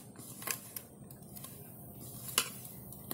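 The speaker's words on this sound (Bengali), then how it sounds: "এটা আরেকবার ভালো করে মিশিয়ে নেব।" Spoon mixing besan and atta flour in a bowl, with soft scraping and a few sharper clinks against the container, quiet and close, no talking.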